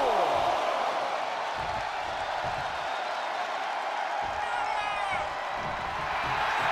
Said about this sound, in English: Trish getting the crowd behind her now.